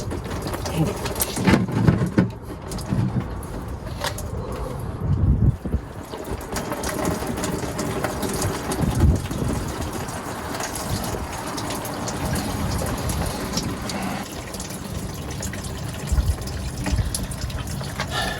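Coolant drains from a Detroit Diesel 6V92 engine into a bucket during a water pump change, a steady splashing, gushing pour that runs throughout, with a person talking over it.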